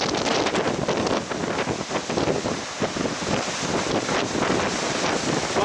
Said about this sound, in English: And of course it's extremely windy right here.